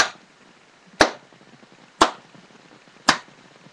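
Four sharp, evenly spaced claps about one second apart, beating out a steady tempo for a music lesson, each crisp and close with a quick decay into near silence.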